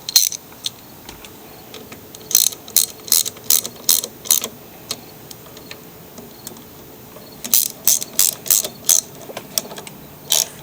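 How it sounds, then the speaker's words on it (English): A ratchet tightening the flywheel and coil bolts on a Craftsman mower engine, close and loud, in two separate bursts of quick rhythmic clicking strokes with a pause between them. "now we will tighten down the bolts"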